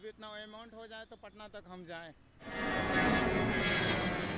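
A person talks briefly near a railway crossing by an Indian airport, then a loud roar of turbojet engines swells and stays powerful as the plane takes off nearby.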